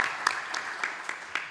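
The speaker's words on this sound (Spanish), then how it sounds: "Con ustedes, un aplauso, por favor, para Fidel Santos." Sparse, light clapping from a small audience at a university tribute ceremony, a handful of distinct claps spaced out over a moment, fairly soft and without voices.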